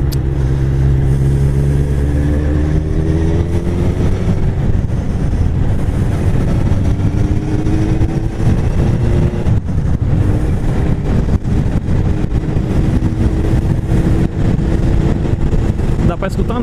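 A motorcycle exhaust drones and revs while riding, its engine tone rising and falling under heavy wind buffeting, with someone talking over the noise throughout.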